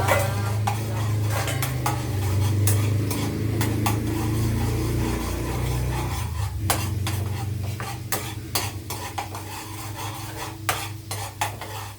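Garlic fries in lard in a pan while a spatula stirs it, with a steady sizzle under repeated metallic scrapes and clicks against the pan that grow sharper and more spaced out toward the end.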